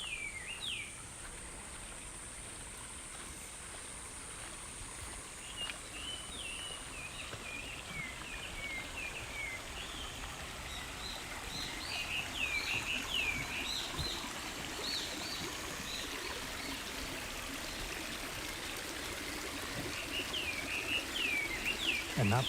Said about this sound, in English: I guess that's bush warbler singing.